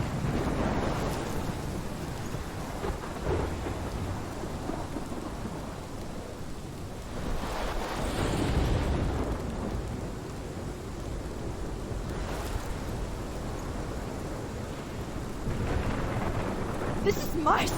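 A thunderstorm rolls through in the video game Life is Strange, with heavy rain and crashing waves under repeated deep thunder rumbles that swell and fade in long, loud waves.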